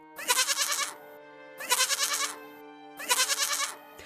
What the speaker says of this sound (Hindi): अचानक मेरे मुंह से बकरी की आवाज आने लगी